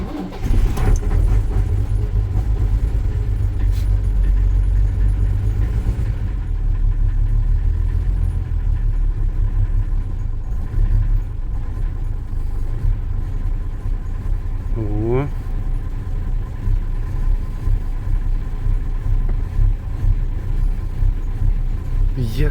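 A diesel car engine running in freezing weather after a hard start, smoking, a steady low rumble that dominates throughout, with people talking over it.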